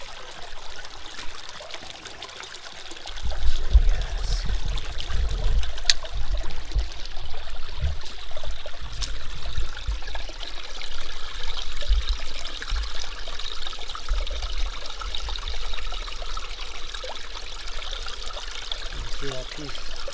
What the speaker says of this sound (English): If I can wash my hands off, I'll show it to you.